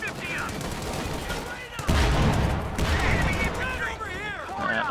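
Heavy .50 calibre machine gun bursts rattle in the World War II strategy game Ardennes Assault, with rapid repeated shots and booms mixed with battle noise, while someone talks over the gunfire.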